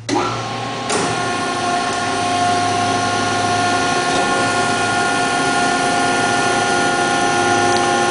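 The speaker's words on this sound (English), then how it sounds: "bring the press back down." A 250-ton, 32 by 42 inch up-acting compression molding press lowers back down with a brief clunk, then a loud, steady hydraulic motor whine and hum that runs on without a break.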